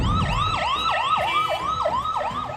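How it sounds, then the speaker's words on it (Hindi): A loud ambulance siren wails close by, its rising sweeps repeating in a fast, regular rhythm throughout. "इसी तरह सायरन बजाती हुई एम्बुलेंस से"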